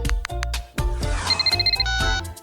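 A phone rings in a series of bright, repeated electronic tones as someone places a call, coming after a few sharp thumps and rustles close by.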